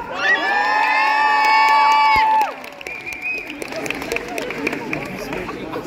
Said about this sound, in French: je vous demande de faire beaucoup de bruit pour Mademoiselle Bille en tête.